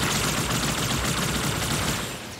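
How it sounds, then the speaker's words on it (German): Dense automatic gunfire rattles without pause through a firefight in the video game Halo 2 Anniversary, loud and continuous before easing slightly at the end. "Weil die KI dir immer genau in die Fresse schießt."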